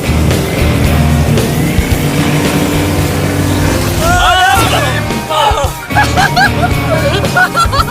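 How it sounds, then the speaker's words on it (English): A motorboat circles in tight donuts on open water, its engine droning loudly and steadily throughout, with excited shouting and chatter from people aboard over the motor. "Oh, they're doing donuts in the water."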